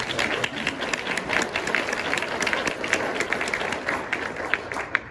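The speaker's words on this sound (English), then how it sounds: "So just a round of applause." An audience at a healthcare organisation's annual meeting gives a round of applause, with dense, steady clapping from many hands that holds at an even level for several seconds.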